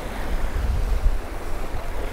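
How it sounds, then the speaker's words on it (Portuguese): Strong wind gusts across open water during a fishing trip, a steady roaring rush with low buffeting on the microphone and waves in the background, no talking. "Que vento, né, amor?"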